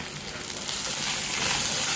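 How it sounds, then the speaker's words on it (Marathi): Red chili powder, turmeric and garam masala fry in a little oil for an Indian spring onion dish, giving a soft, continuous crackling sizzle that swells slightly as it goes. "आणि हे जरा परतून घ्यायचं तेलात"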